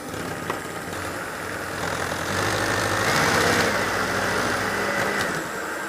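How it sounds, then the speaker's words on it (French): Electric hand mixer on speed three whipping eggs for a rolled sponge cake, giving a steady, close motor whir that swells slightly midway and runs continuously without talk. "je vais monter les œufs une bonne dizaine de minutes. et je reste sur vitesse 3 sur mon batteur électrique."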